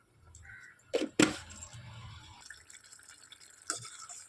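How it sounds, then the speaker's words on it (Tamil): Tamarind water poured into a pan for sundakkai kuzhambu, a couple of quick splashing gushes followed by softer dribbles and a final small splash, close up and without speech. "அந்த புளி தண்ணியை ஊற்றிக்கலாங்க"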